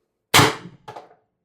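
A single sharp CO2 air pistol shot from a Pistelle X-68 running a 12 gram cartridge in the grip: one loud, close crack, then a brief fainter metallic echo, with no talking.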